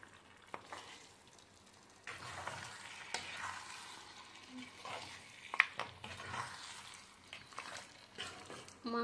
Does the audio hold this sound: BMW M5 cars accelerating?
no